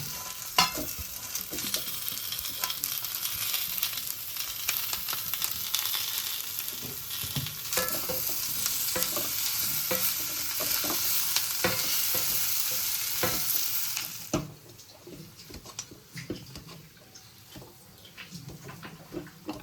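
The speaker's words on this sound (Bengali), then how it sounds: "এবারে আলুগুলো কড়াতে দিয়ে দেবো পুরটা বানানোর জন্য।" Peeled potatoes for an aloo chop filling fry and get stirred in a wok, with a steady broadband sizzle, frequent scraping stir strokes and clatter throughout, the hiss dropping noticeably quieter near the end.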